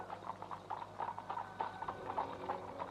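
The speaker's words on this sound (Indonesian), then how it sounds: "Wulandari mendengar bunyi kereta kuda itu dengan perasaan yang gelisah" Hooves of a horse-drawn carriage clip-clop in a steady trotting rhythm, clear and moderately close for several seconds with no voices over them.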